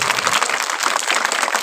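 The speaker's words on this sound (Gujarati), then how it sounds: "બધાએ તાળીઓ પાડે." Steady applause from a crowd of villagers and schoolchildren at a primary school flag-hoisting ceremony, dense clapping without pause, fairly close and loud.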